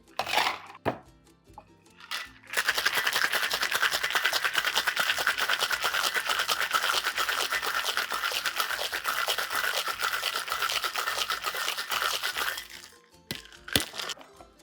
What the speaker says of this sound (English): So ice, shake for 10 to 12.